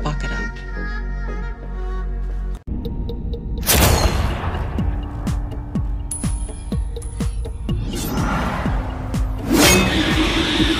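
Gunfire from an action scene in the superhero series The Boys, with a couple of loud booming blasts and a run of rapid sharp shots in between, set against a dramatic film soundtrack.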